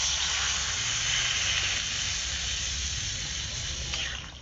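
Water is poured into a pan of fried, spiced broccoli with prawns, setting off a loud, steady sizzling hiss of steam that fades slightly toward the end, close up with no talk.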